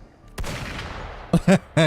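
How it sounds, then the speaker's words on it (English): Heavy gunfire or cannon blasts in a video game, one sharp booming report followed by a decaying rumble, then a quick cluster of three loud, close shots. "Is that's gunfire? That sounded like a freaking cannon."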